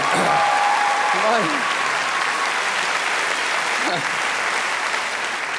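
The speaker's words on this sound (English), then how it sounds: "And a round of applause for your opening act, the Chooky Dancers" A comedy festival gala crowd gives loud, sustained applause for the Chooky Dancers' opening act, with a few voices calling out briefly over the clapping.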